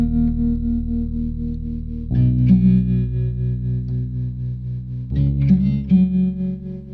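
A synth tone shaped by a wave modulator, with sustained harmonic layers whose texture swells and pulses up and down in peaks, playing alone with effects-like distortion and chorus over about seven seconds.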